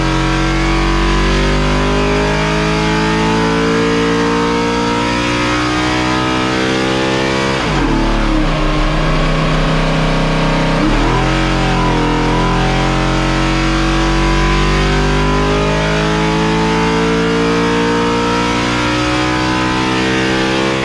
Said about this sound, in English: Now it's back on the dyno, and we're going to show you how much power it makes now